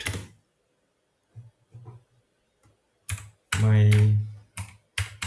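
Scattered keystrokes on a computer keyboard as a command is typed during a software setup demo, sparse clicks with short pauses between them and a brief hesitant voice sound partway through.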